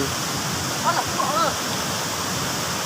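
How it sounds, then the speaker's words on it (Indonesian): Twin waterfall and river rushing in Solok Selatan, a steady broadband roar close by, with brief faint voices in the middle. "Sungainya indah sekali teman-teman."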